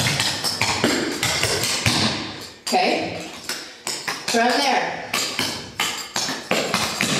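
Tap shoes striking a hard floor in a duet routine, crisp hops, knocks and steps landing in quick rhythmic clusters, close and loud, with a person speaking briefly.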